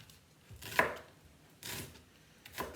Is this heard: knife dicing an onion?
yes